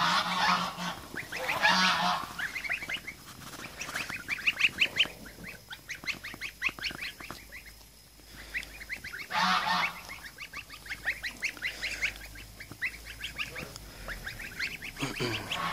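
Geese and small goslings honk repeatedly in loud bursts with quieter stretches in between, the calls overlapping close by in a farmyard.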